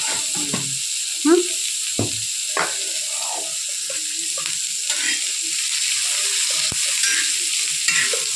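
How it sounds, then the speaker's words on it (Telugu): Onion omelette mixture frying in a small amount of reused oil tinged with turmeric, a soft steady sizzle under scattered spatula scrapes and clicks, close by. "ఇట్లా కొద్దిగా ఆయిల్ అనేది పోసుకొని ఫ్రై చేసుకోవాలి."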